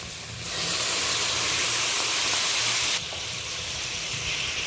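Hot water poured into a pan of frying crab masala with onion, green chili, tomato, ginger and garlic sets off a loud, broad steamy sizzle that surges, then settles into a steady hiss.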